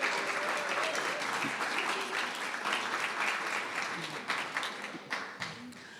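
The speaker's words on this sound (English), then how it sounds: "Let's give them a big applause." An audience at an after-hours talk event breaks into sustained applause, dense steady clapping filling the room for the full stretch and thinning slightly toward the end.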